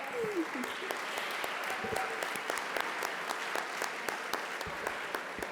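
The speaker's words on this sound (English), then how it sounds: "And please, keep the applause rolling." Steady applause from a housing symposium audience fills the room, dense and continuous clapping with a few sharper claps standing out.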